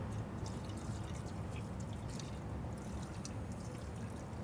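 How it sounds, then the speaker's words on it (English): Fluid poured down the carburetor throttle plate holes of a long-parked 1962 Cadillac DeVille, a steady continuous wash of trickling liquid with faint dripping, close and even throughout with no talk. "I'll pour some down throttle plate holes, get it on top of the valves"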